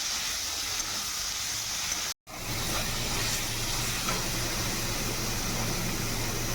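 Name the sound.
spice paste frying with chopped tomato, salt and turmeric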